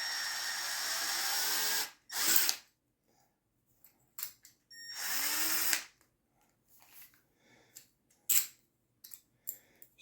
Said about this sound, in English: You can get your screw gun or your regular Phillips, and just take it out.